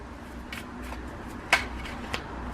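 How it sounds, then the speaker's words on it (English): Faint, close riffling and light clicks from a deck of tarot cards being shuffled by hand, with a few sharper snaps standing out against a quiet room hiss. "I know you can't see me shuffle, but hopefully you can hear it."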